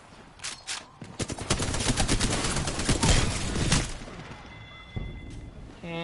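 Rapid bursts of gunfire in the video game Apex Legends, loud and close, with dense automatic fire through the middle and a few sharper single shots near the end.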